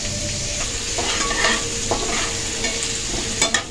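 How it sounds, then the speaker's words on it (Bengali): Beans fry in a wok over low heat with a steady close sizzle, while a spatula stirs and scrapes at intervals. "তো এইটা একটু ভাজা হোক"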